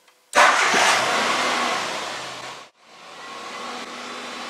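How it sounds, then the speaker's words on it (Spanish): A car engine cranks and catches at once, roaring loudly, then dips briefly before settling into a steady, close idle hum. "ahora si arranco el coche"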